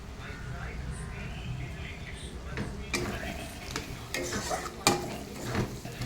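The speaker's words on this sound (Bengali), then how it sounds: "মশলা একটু কড়া ভাজা হয়ে গেল" Spices with fried potatoes cook in a pan, with a faint sizzle under metallic stirring clinks and scrapes of a spoon against the pan, growing busier midway.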